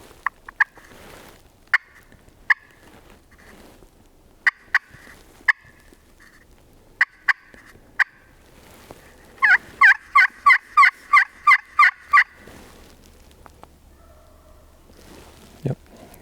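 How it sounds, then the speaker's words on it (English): A wild turkey gobbler sounds off in open hillside timber a few hundred yards away, with scattered short calls followed by a rapid rattling gobble of about ten pulses, faint and distant under quiet outdoor ambience. "Yep, gobble."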